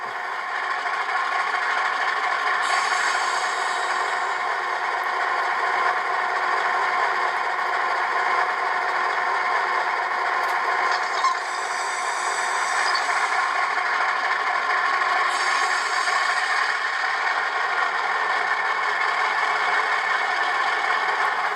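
Dynamic brake sound from a Rapido HO scale EMD E9A streamliner model locomotive with ESU LokSound DCC, a steady, loud mechanical roar and hiss running continuously with slight swells and no talking.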